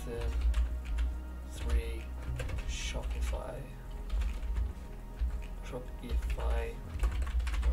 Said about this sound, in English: what you can do is literally just type in Python